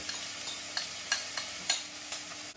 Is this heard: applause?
no